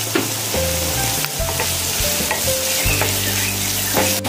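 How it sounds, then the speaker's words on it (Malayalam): Onions sauté in a pan for egg biryani, a steady broad sizzle running throughout with scraping stirs and a few clinks of a spoon against the pan, close and fairly loud. "സവോള ഒരുവിധം വഴന്ന് വന്നു."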